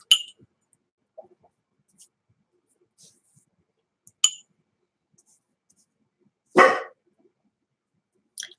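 A dog gives a single sharp bark indoors amid near silence, with a few faint clicks and clinks scattered before and after it.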